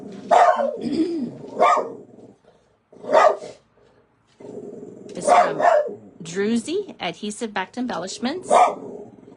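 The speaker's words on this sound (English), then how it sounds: "Sorry about the puppy dog." A puppy barks in short yips and bow-wows indoors, close and fairly loud, breaking out in bursts between and over someone talking during a paper-craft session.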